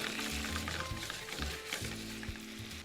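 Cherry tomatoes and red pepper flakes sizzle steadily in a hot pan, a dense, even crackle of frying that runs continuously at moderate loudness with no talking.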